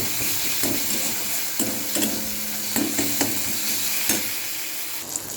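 Ginger-garlic paste, chilli powder and turmeric frying in a pan for a prawn kosha, a continuous close sizzle broken by repeated spatula scrapes and stirring knocks, with no one speaking.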